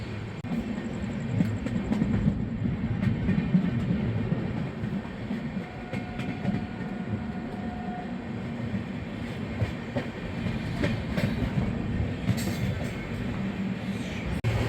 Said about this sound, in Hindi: तो कोई भी ट्रेन मतलब किसी ट्रेन से तो हमारी क्रॉसिंग हो रही है